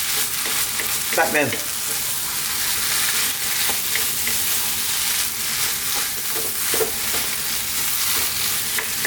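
Vegetables and spices for an Indian-style vegan lentil soup frying in a pan, a constant close sizzle with scraping stirring strokes throughout; a brief voice is heard.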